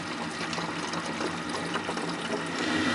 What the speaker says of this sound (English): Here's the last wash with some water, and it looks pretty clear.